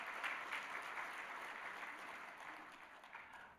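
Congregation applauding during a church worship service, a steady wash of faint, distant clapping that softens slightly toward the end.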